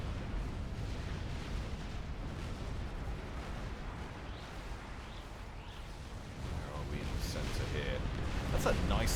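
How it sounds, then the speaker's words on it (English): Artillery ordnance fires in a Supreme Commander 4v4 real-time strategy battle on Monument Valley, with dense overlapping booms and rumbling blasts running steadily throughout, growing louder toward the end under a busy mix of battle noise. "Just sneaking the artillery ordnance past that little pillar."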